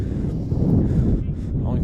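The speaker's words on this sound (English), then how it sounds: "we're dealing with 35 to 40 mile per hour winds. It is gusting, as Kevin mentioned" Strong gusting wind of 35 to 40 mph buffets the microphone at an outdoor boys' lacrosse game on a hilltop campus, a loud continuous low rumble that swells and dips throughout.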